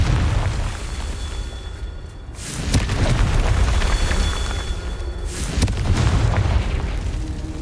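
In Hogwarts Legacy on PS5, the Confringo spell sets off two heavy booming blasts a few seconds apart, each a sharp loud burst followed by a rumbling decay over a steady game background.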